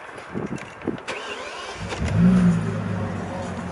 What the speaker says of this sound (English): start the engine, leave the door open so you can just hear that exhaust note.